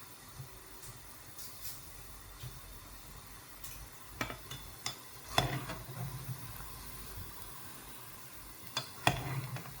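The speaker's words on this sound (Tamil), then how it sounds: "இப்போ எண்ணெயில் பொரிச்சிக்கிட்டுருக்கோம்" Gulab jamun fry in oil over a low flame with a faint, steady sizzle, while a utensil clinks and scrapes against the pan now and then.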